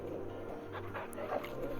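A dog in the video game Final Fantasy XVI gives a brief, soft whimper over a steady hum of game ambience.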